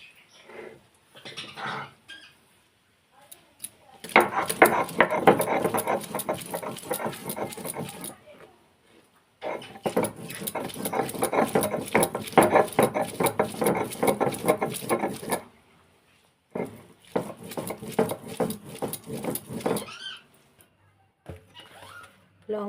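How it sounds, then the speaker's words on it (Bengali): Botboti beans are ground on a stone shil-pata slab with rhythmic, rasping back-and-forth strokes in three long bouts separated by brief pauses, close and fairly loud. "বটবটিগুলো শিলপাটা দিয়ে বেটে নেব।"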